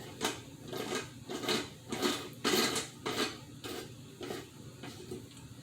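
Metal lid being screwed down onto a pressure canner, giving repeated clanks and scraping metallic knocks in an uneven rhythm, fairly close and moderately quiet.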